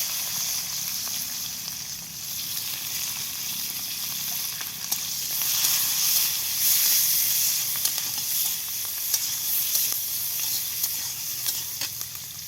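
Onion and green chilli frying in oil, a steady bright sizzle that swells slightly midway, with occasional stirring clicks and no talking.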